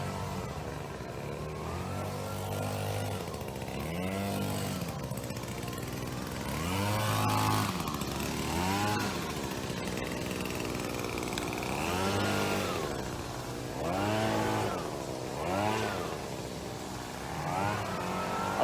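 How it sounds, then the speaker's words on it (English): A leaf blower's small engine drones nonstop in Florida, its pitch rising and falling in repeated revving surges, moderately close and loud, with no talking. "I'll just try and get past this gentleman with the leaf blower."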